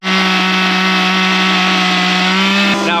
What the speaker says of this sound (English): fires up the chainsaw, first pull, the thing's running